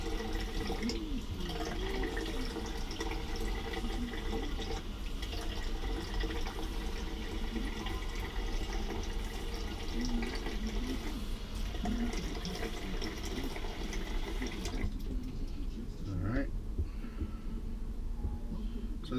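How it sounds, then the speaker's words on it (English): Hot water runs and splashes from a tap inside an RV while wetting a scalp before a head shave, a continuous close trickling stream with small drips that quiets near the end. "I'm just going to put some hot water on it"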